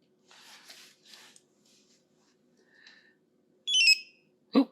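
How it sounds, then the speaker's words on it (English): A Compustar 2W901R-SS remote start unit's beeper sounds two short electronic tones near the end, close and fairly loud after faint handling noises. "Oh, there, the beeper worked."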